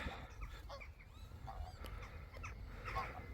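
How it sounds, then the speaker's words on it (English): Geese honk outdoors in a few short calls scattered over a steady background hum, moderately distant, with no speech over them. "Oh my god, there are geese."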